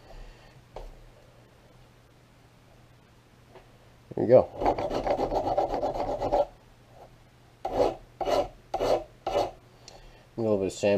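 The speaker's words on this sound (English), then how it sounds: "Alright, here I got some 150 grit sandpaper." A barrel patch being sanded by hand with 150 grit sandpaper, a close, loud raspy scrubbing in one long sustained stretch and then several short back-and-forth strokes, over a low background hum.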